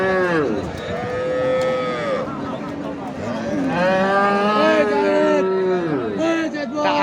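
A Sahiwal cow lows in long, drawn-out moos at a busy cattle market, loud and close, over a steady background of crowd chatter.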